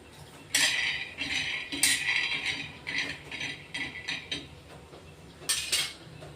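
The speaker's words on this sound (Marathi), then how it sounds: "आपण शेंगदाणे घेतले ते 1 वाटी. ते भाजून घेतोय आता." Peanuts dry-roasting in a pan rattle and clatter as they are stirred, a series of brisk scraping, jingling bursts with short pauses, close and fairly loud, no voices.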